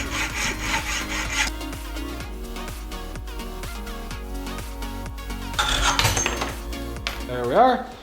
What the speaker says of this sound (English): I'm going to trim down that steering post, or that seat post a little bit